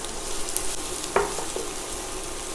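Chopped onions frying in a pan for white cheese dip, a steady close sizzle with brief scrapes of stirring, continuous and even.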